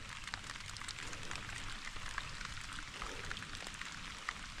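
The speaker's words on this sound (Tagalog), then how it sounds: "Saka umuulan ngayon oh." Light rain falls steadily outdoors, a continuous soft patter of raindrops with no talking.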